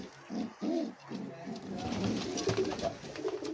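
Pigeons coo nearby in soft, throaty, repeated bursts, with faint background noise and a rustle between calls; pigeons kept for sale in Shyampur, Uluberia.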